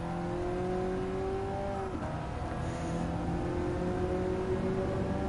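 A Mazda with a Skyactiv engine races in Gran Turismo 7, giving a steady, droning engine note that holds and shifts pitch slightly. It stays loud and unbroken throughout.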